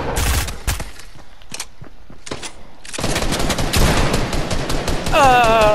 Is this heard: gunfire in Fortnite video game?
yes